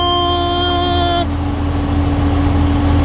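A truck engine running loud and close, a deep steady roar with a droning tone that shifts partway through, no voices over it.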